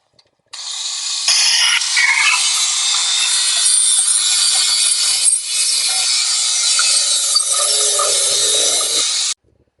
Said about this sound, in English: about to use my cutting wheel to cut through this pipe here